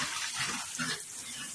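Pigs being bathed with water, a steady broadband splash and gush of water running throughout at close range, with faint low grunting or thumps beneath.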